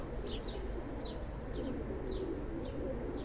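Pigeons coo in a low, soft murmur under a constant background hum, with several brief higher chirps breaking through at intervals.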